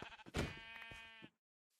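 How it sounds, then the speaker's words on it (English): A Minecraft sheep gives one clear, close bleat with a wavering, harmonic-rich tone after a few short clicks, then cuts off abruptly into near silence. "Actually, there's a sheep here"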